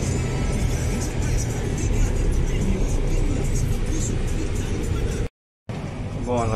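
Steady road traffic of cars and other vehicles on a busy bridge, a continuous close engine and tyre roar with a brief dropout near the end, while a person talks over it.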